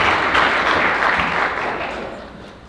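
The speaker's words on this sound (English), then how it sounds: "Okay, you can applaud, never mind." A crowd applauds steadily at a National Honor Society induction at Montezuma-Cortez High School, a dense wash of clapping that starts strong and gradually tapers off toward the end.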